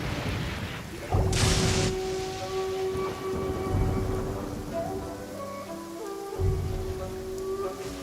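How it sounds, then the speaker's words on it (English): Steady heavy rain in the video game Genshin Impact pours down with a dense hiss, while soft tonal music plays beneath and occasional louder gusts swell through. "This heavy rain must be quite an inconvenience for you."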